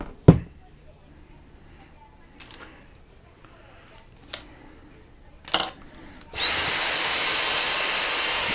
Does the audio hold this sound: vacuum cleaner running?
yes